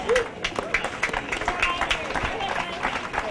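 Crowd applause at an outdoor cancer camp-out, a short burst of scattered clapping from a group, mixed with a voice speaking over it and some background chatter.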